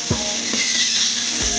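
Onions with chili powder, turmeric and cumin powder frying in a pan on low heat, a steady loud sizzle and hiss with a few soft scraping stirs.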